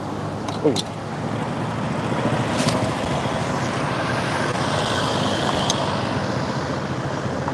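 Road traffic rumbles steadily along a street in Phayao, Thailand, a continuous near-to-mid-distance wash of passing cars and engines with a few brief higher noises, and some faint voices mixed in.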